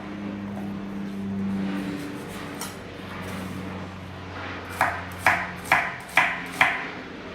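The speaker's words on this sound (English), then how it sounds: "you're going to run your knife, making incisions vertically," Knife dicing an onion on a chopping board, five crisp evenly spaced chops close by near the end, following a stretch of low background hum and faint handling.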